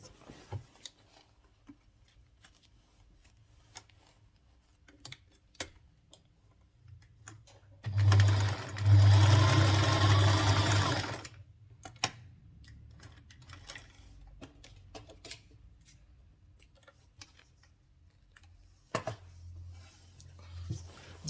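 A sewing machine stitches a pocket piece onto trouser fabric in one loud, steady burst of about three seconds, set between long stretches of quiet handling clicks and taps.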